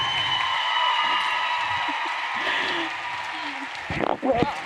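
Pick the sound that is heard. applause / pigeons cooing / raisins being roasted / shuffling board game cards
applause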